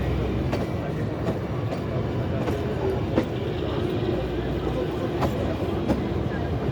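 A rail motor car on the Kalka–Shimla narrow-gauge line at Shimla station, giving a steady rumbling drone with faint clicks from the track, close by and continuous, while voices talk lightly over it.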